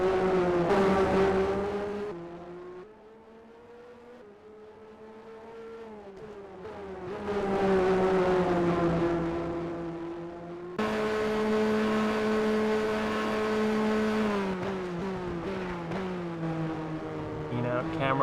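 Formula 1 cars racing around the Spa circuit in a video game, engines droning and shifting pitch as they rev up and down through gears, loud and continuous with a gear change near the end.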